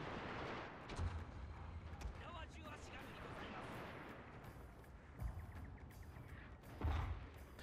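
Explosions and artillery fire in a samurai-era war strategy game. Heavy booms land at intervals, with a few louder blasts standing out, over a continuous rumble of distant gunfire and battle noise.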